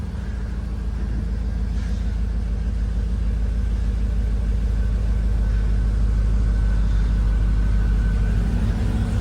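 A Cadillac Escalade engine with the catalytic converters cut off and a stock muffler whose tailpipe is cut off idles with a steady, deep rumble, close and loud with no break.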